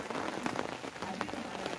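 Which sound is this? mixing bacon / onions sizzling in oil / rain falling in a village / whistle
rain falling in a village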